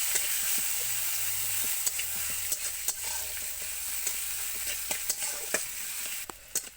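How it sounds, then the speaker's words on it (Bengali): Chopped onions with a pinch of salt fry in a pan after a tempering of five-spice and cumin, giving a steady close sizzle broken by the scrape and click of stirring, with no voices. "এরপর দেবো পেঁয়াজ কুচি আর দেবো 1 চিমটি লবণ দিয়ে পেঁয়াজগুলোকে হালকা ভাজা করে নিতে হবে।"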